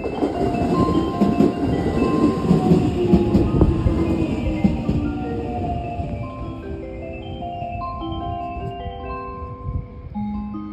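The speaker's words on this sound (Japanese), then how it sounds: "普通列車敦賀行き3番乗り場の到着です。" A local train bound for Tsuruga rumbles into Sabae Station and slows at platform 3, its brakes squealing in drawn-out, shifting tones as the clatter fades.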